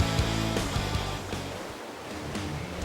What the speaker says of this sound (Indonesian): Deru suara air yang terdengar seakan bergemuruh keras karena menampar sisi sungai yang